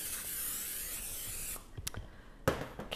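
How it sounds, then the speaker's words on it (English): Cooking spray hisses from an aerosol can into a casserole baking pan in one long steady burst of about a second and a half, followed by a few short clicks and light handling knocks. "make sure that you have probably sprayed it with some cooking spray so it does not stick to the bottom of your pan."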